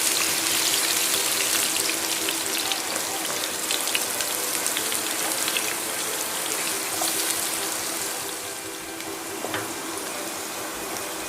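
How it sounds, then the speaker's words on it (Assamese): Cut potatoes frying in refined oil with a few cumin seeds in a kadai, a steady loud crackling hiss close by that eases slightly toward the end, with no talking. "আলুখিনি অলপ ভাজি ল'ম।"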